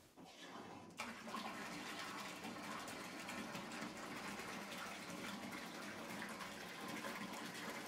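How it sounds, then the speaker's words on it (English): A bathtub fills with water from the tap, a loud, steady rushing gush that surges after the first second and then pours continuously nearby with nothing else heard. "So I'm going to fill up my tub the rest of the way and hop on in here"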